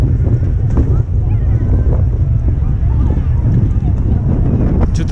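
Strong gusty wind buffets the microphone in a steady low roar at a Santa Claus parade in Toronto, with a voice talking faintly underneath.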